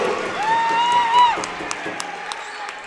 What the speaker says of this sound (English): This Amherst crowd is fired up.